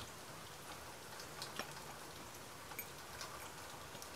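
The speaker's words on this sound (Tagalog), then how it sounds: "pero umuulan." Steady rain falls during a light, scattered sun shower, a soft continuous patter with a few louder drop hits, heard alone with no voices.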